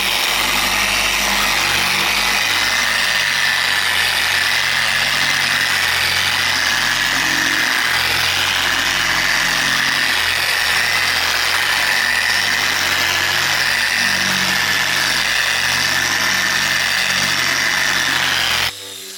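A spinning buffing wheel runs steadily against a faded car hood, a constant loud whirring hum with a bright hiss that holds evenly, without pause or talk.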